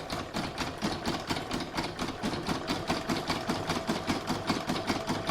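A home embroidery machine stitching a two-hooping acorn placemat, a fast, even mechanical clatter of needle strokes repeating several times a second over a low motor hum, close and alone.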